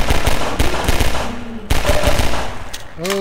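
Rapid gunfire in the video game Half-Life 2 Episode 2, pistol shots cracking in quick bursts with dense game sound behind them, and a short electronic tone near the end.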